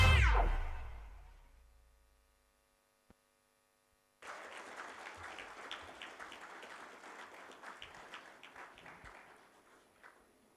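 Audience applause after a dance performance at a university graduation ceremony in Colombo, a dense steady wash of clapping that starts abruptly after a short silence and carries on evenly at moderate distance.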